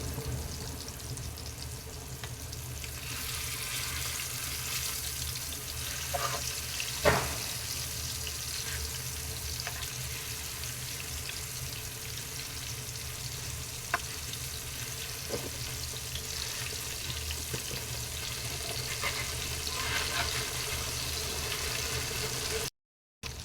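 Chicken leg pieces fry in oil over a medium flame with a continuous soft sizzle and crackle, steady and close throughout with a few sharper pops and no talk.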